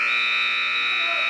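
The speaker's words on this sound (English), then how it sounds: "That buzzer being over on the red mat." A loud, steady electronic buzzer blares without a break at a girls' varsity high school wrestling match on the red mat.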